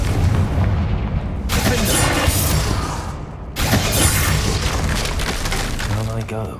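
Confringo fire spell explosions from Hogwarts Legacy, two loud broadband blasts with rumbling tails over continuous game background noise and music.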